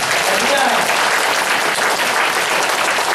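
A church congregation at a Taiwanese-language Sunday worship service applauding, dense and loud clapping that holds steady from start to finish.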